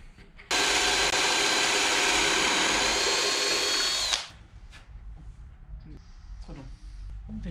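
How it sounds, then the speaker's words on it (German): A power drill whirs loudly and steadily for a few seconds drilling holes for a VW T5 camper kitchen, then stops; quieter speech and handling noises follow. "Jetzt kann man wieder hier erstmal die Löcher bohren"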